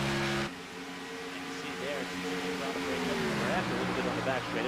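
Xfinity Series race cars in the NORC iRacing game at Indianapolis drone past with engine whine that rises and shifts in pitch, moderately loud under steady commentary talk.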